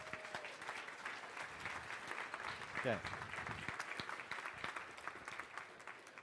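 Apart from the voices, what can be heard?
applause for Sam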